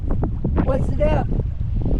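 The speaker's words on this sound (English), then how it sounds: "We really got to just motor into the wind and take the sails down." A sailboat motors into the wind, with loud, buffeting wind noise and a low engine and water rumble; voices speak intermittently over it.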